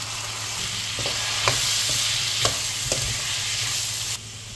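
Chopped tomatoes frying in oil in a pan for upma, a steady loud sizzle with a few sharp stirring clicks and scrapes, close up, with no voices.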